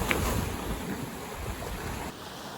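Sea swell surging and breaking against a seawall in a steady, rough wash of water, with gusty wind buffeting the microphone; no one speaks.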